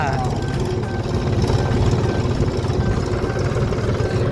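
A tractor engine runs steadily close by, a continuous low, throbbing rumble that holds an even level throughout without pause.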